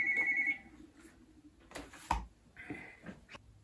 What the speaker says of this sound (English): the phone call came in, I had to answer